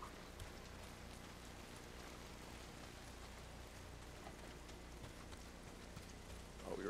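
Steady, dense downpour of heavy rain in a video game world, a continuous even hiss with no breaks, faint and distant in level throughout.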